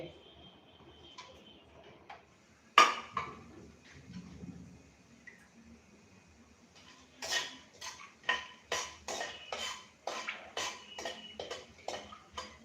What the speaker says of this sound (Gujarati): હવે આપણે બદામ અને કાજુના ટુકડા અંદર ઉમેરી દઈએ